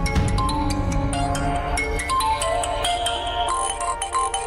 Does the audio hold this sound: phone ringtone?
yes